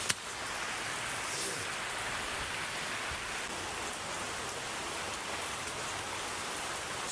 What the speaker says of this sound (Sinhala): මේ කරුව වැස්සක් තින්දා